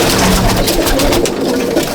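Pigeons in a loft, one of them from Dubai, cooing in low repeated throaty calls amid loud, close, busy background noise, with no talking.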